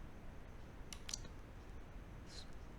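A computer mouse clicks a few times while drawing in Creo Parametric CAD software, quick faint taps over a low background hiss.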